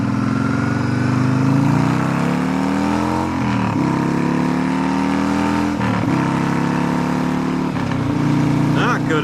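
A motorcycle rides along on the road, its engine droning loudly and steadily and rising in pitch through repeated gear shifts, with brief dips between them. Wind rushes past throughout, and a person speaks over the engine at times.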